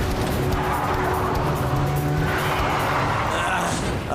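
A cartoon car drives and skids, with engine drone and tire squeal over busy background sound effects, loud and continuous, with a voice faintly present.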